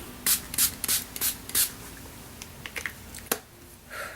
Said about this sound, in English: I just shake it up and spray it all over my face